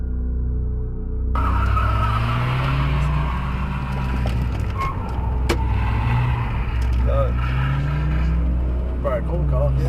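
A car swings through a quick U-turn with tires skidding and squealing in rising and falling tones over a loud, steady engine rumble for the whole stretch.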